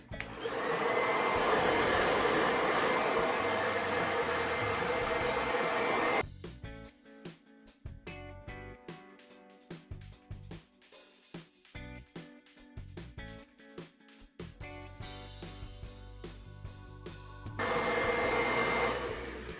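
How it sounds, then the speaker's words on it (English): A hair dryer on a cool setting, drying a human hair wig, blows with a steady broadband whoosh, stops for several seconds of intermittent clattering and handling noise, then starts blowing again. "Then I will grab, trying to stay out of the camera, my trusty dryer."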